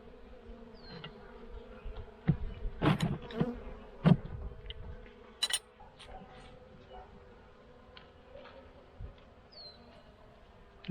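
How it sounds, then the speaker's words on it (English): Honey bees hum around a hive opened for an early spring inspection, a low steady drone running underneath close handling knocks and rustles, with a faint bird call now and then. "I'm done messing with these bees."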